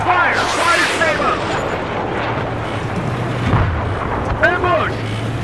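A tank cannon fires during a Battlefield 3 battle, heavy booming blasts rolling under shouted commands from voices over steady engine drone.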